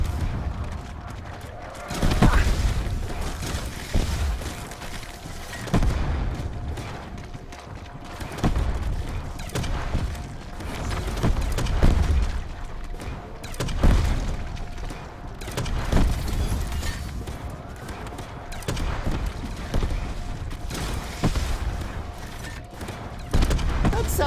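Wet, splattery explosion in a video game, with repeated booming bursts spread across a noisy battle scene, and speech running over the top.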